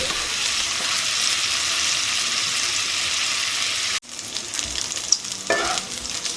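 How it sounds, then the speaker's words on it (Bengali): Chicken sausages sizzle and fry steadily in a pan, with a continuous hiss that dips briefly before a scrape of stirring and softer spattering follow. "এটা আমি ততক্ষণ নাড়তে থাকবো যতক্ষণ না একটা লাল লাল কালার হয়ে আসে"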